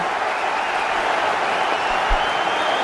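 Loud, unbroken cheering and applause from a big crowd in a cricket stadium during an England versus Australia one-day international, a thick steady roar.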